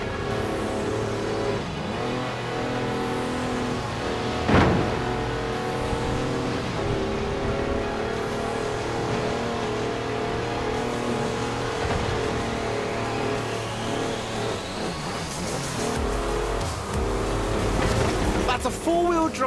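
A car driving off-road on mud tyres in Forza Horizon 4, its engine droning and revving steadily with shifting pitch and occasional thumps of rough terrain, under light talk.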